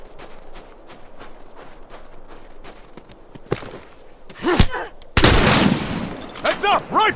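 Rifle gunfire in The Last of Us Remastered, lakeside level: sharp, loud shots crack out after a stretch of quieter ambience, with a dense burst of blasts and ringing echoes near the end.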